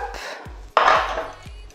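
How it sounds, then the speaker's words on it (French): A knife cuts an onion on a Frankfurter Brett wooden cutting board: a few sharp, close knocks of the blade striking the board at an uneven pace, with one louder scraping thud in the middle. "je vais détailler mon oignon"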